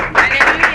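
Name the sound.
congregation applauding in church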